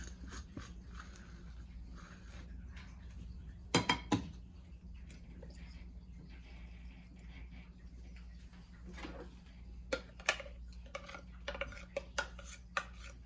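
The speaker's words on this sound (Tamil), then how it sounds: "இதை வந்து ஒரு பவுலில் நம்ம ட்ரான்ஸ்ஃபர் பண்ணிக்கலாம்" Clinks and scrapes of a spoon and bowl in a home kitchen as ground masala paste for fish fry is scooped from a grinder jar into a bowl, with a few sharp knocks among quieter handling over a steady low hum.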